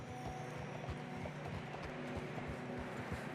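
Horse hooves clip-clop in a steady, regular rhythm on a snowy road in Red Dead Redemption 2, quiet and even throughout, with no talk over them.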